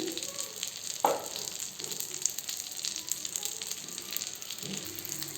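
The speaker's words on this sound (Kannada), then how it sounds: "ನಾನು ಚೆನ್ನಾಗಿ ಇದನ್ನು ಒಂದು ಮೀಡಿಯಮ್ ಫ್ಲೇಮಲ್ಲಿ ಇಟ್ಟು ಬೇಯಿಸ್ಕೊಳ್ತಾ ಬರ್ತೀನಿ" Ragi dough cooks on a pan over a medium flame with a steady, soft sizzle. A sharp clink of a utensil comes near the start, then a few quiet scraping touches follow, all close and fairly gentle.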